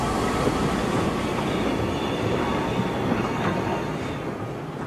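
A steam locomotive shunts in a Yugoslav railway yard in 1962, giving off a continuous rumbling roll with a faint metallic squeal over it. The sound is steady and moderately loud, with no voices.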